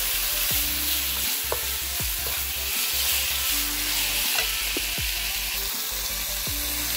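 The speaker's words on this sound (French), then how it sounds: "Donc on mélange bien, comme j'ai dit." Turkey strips with shallots, garlic, chili, herbs and a stock cube sizzle steadily in a hot pan while a spoon stirs and scrapes through them in repeated strokes, close and continuous with no talking.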